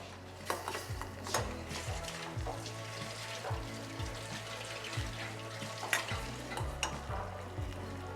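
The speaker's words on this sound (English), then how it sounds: "And lastly, some bourbon, which we'll just bring to a simmer. I'll mix that together with a whisk." A whisk stirs a simmering bourbon glaze in a pan, making rhythmic scraping and rattling strokes against the metal over a soft bubbling sizzle, close and fairly quiet.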